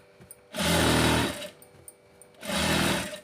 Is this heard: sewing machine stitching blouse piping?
yes